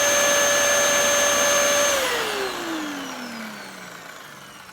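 A Dyson DC14 vacuum cleaner runs with a loud, steady motor whine, then is switched off and winds down with a falling pitch that fades away. No one speaks.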